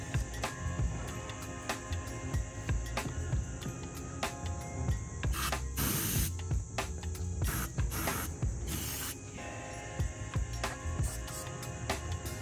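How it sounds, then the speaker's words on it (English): Bursts of hissing spray as ether is sprayed inside a tire rim, with rubbing and clattering handling noises, close and fairly loud. "we're gonna spray some ether inside the rim"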